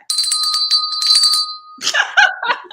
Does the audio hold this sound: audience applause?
no